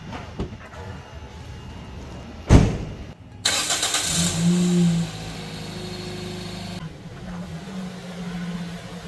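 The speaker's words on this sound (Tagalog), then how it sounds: "Ito guys yung engine ng ating Vios 2014. Stable naman po yung idling." A 2014 Toyota Vios with automatic transmission cranks with a sharp click, catches, and settles into a steady, even idle heard close up with no talking.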